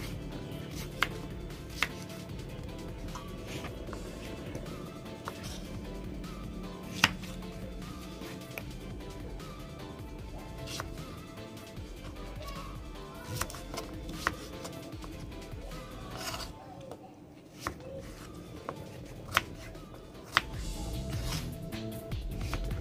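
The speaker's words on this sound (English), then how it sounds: "So I'm just gonna chop it up." A knife chops pumpkin on a board outdoors on a balcony, faint sharp taps scattered irregularly over a steady low background hum, no talking.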